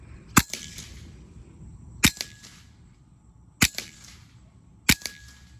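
Four sharp shots from an AEA HP .30 caliber air carbine, evenly spaced about 1.5 seconds apart at a target range, each a loud crack with a brief tail, no talking.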